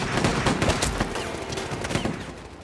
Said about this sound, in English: Okay, well, Dolly's gonna get shot now.